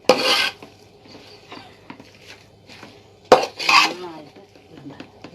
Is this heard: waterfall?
no